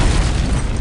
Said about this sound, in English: What was that? That's an explosion.